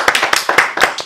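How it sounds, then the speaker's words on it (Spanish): A short burst of clapping, about a dozen sharp hand claps in a quick, slightly uneven rhythm, close and fairly loud. "Y por eso un aplauso, por favor, a la gente que está aquí."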